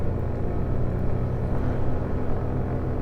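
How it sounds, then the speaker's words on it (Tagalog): A Suzuki Burgman EX 125 scooter engine strains up a steep hill, a steady, moderately loud droning whine with a rough low rumble and wind noise throughout, no talking heard. "Kumbaga gigil na gigil yung makina eh."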